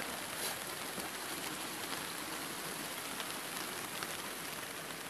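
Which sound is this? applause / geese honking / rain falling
rain falling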